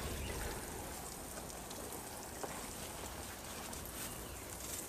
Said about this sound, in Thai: เสร็จแล้วเราก็จะรดน้ำครับรดให้ชุ่มเลย